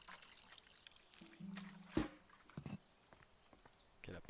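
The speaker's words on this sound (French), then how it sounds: "On met de l'eau." Water pours onto soil in the video game Botany Manor, a short soft trickle that is faint and close, with a few light clicks around it.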